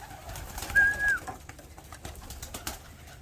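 A pigeon coos once, soft and close, while perched among other birds, with faint rustling and small background noises around it.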